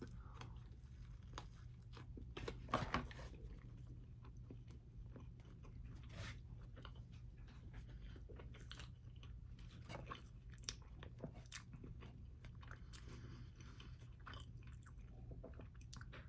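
Soft crunching bites and wet chewing of a McDonald's Big Mac burger come close and quiet, repeating irregularly, with one louder bite early on.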